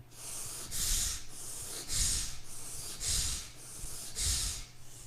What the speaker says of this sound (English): Forceful inhales and exhales begin.